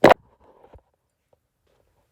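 A phone hits a surface with one short, sharp clatter right at the start, followed by a few faint small knocks and then near silence.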